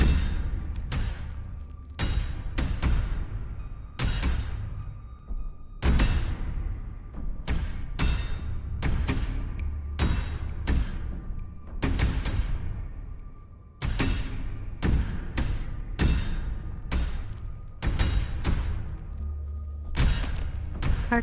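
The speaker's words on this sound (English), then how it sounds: "Our cavern shakes with the sound of rockfall." Rockfall and knocking in a mine in the Scarlet Hollow video game, a series of deep irregular thuds and rumbling impacts that repeat every second or two, heavy and close, with no talking.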